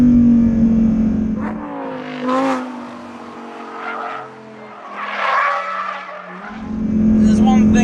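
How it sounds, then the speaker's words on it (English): A Lamborghini Huracán Performante's naturally aspirated V10 screams up and down through the twin-clutch gears, loud and raw, fading briefly as it passes away before roaring back close by. "how much soul and character a naturally aspirated V10 engine has"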